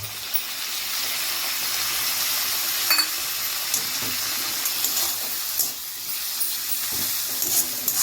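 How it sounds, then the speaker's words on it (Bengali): Ginger garlic paste frying with onions over a low flame, a steady soft hiss with light crackles and occasional stirring clicks, close and continuous. "এটাকে মোটামুটি 2 থেকে 3 মিনিট লো ফ্লেমে একটু ভেজে নেব"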